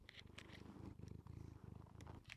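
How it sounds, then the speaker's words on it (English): Up close, a cat purrs in a steady rhythmic rumble, soft but continuous, with light clicks of claws on a keyboard mixed in. "If you can hear a purring cat"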